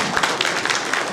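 A crowd at a formal ceremony keeps up brief, continuous applause, a thick wash of overlapping claps at even loudness.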